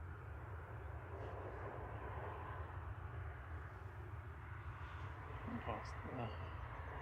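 An air tanker aircraft at Manchester Airport produces a low, continuous engine rumble at a distance, steady and moderately faint throughout, with a voice speaking quietly over it.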